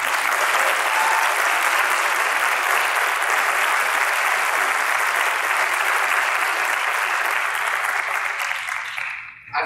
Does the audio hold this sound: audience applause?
yes